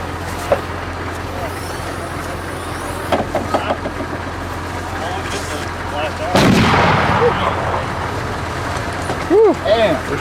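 US Army field artillery firing in an open field, a heavy boom landing mid-clip over a constant engine-like rumble, with people talking nearby before and after the blast.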